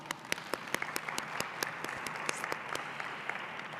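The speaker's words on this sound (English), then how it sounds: "let's applaud yourselves" Audience at a maternal and infant health summit applauding steadily, a dense wash of many hands with sharper individual claps standing out, moderately distant and even throughout.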